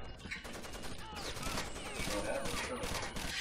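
Dense, rapid gunfire from the video game Rainbow Six Vegas 2, a continuous barrage of overlapping shots and bursts filling the whole moment at moderate level.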